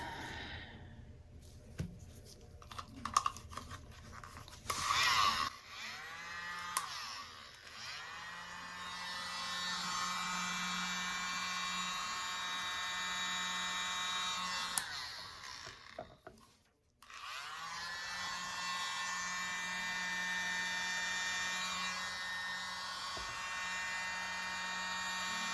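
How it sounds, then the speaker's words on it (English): Small handheld mini blower pushing poured acrylic paint across a surface, a steady close electric whine that cuts off briefly near the middle and then resumes, preceded by some clattering handling noises. "I'll try my mini blower."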